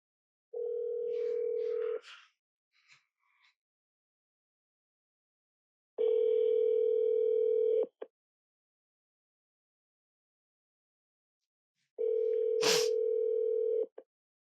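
Three long, steady telephone tones ring out alone on an unanswered call, each about two seconds long and separated by silences of roughly four seconds.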